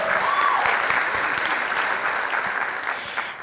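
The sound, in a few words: audience applause at a school assembly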